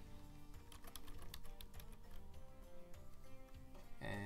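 Soft, quiet clicking of keys on a keyboard as text is typed, a quick irregular patter of taps with a brief louder burst at the end.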